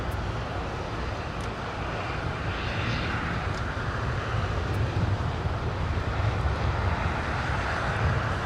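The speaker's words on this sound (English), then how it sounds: "There goes the 747." A departing Boeing 747 airliner at Los Angeles International Airport gives a dense, sustained jet-engine roar, loud and steady from start to finish, with no voices over it.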